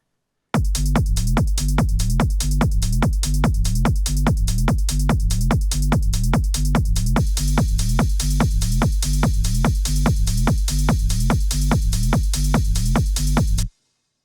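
Dubby hardgroove techno loop with driving hi-hats over a steady four-on-the-floor kick and bass, fast relentless pulse, loud and dense throughout, no voices.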